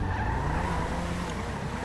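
A BMW in a roleplay video game skids, with a continuous, loud tire screech over engine roar throughout.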